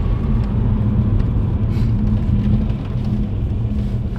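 A car with a 1.8T engine and DSG DQ250 gearbox drives along in third gear, giving a steady low engine drone and road rumble from inside the cabin, loud and unbroken.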